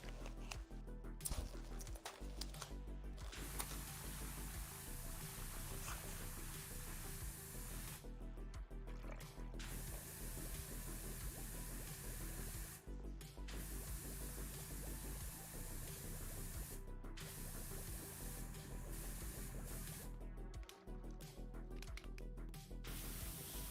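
Pressure washer spraying steadily in a video game, a loud continuous hiss of water jet running almost unbroken, with only brief cutoffs where the trigger is released.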